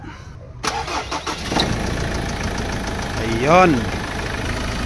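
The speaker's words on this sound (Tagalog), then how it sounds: "Okay, engine start." 2016 Ford Ranger with white-smoke trouble cranks and cold-starts, the engine catching and settling into a steady, close idle; a voice speaks briefly near the end.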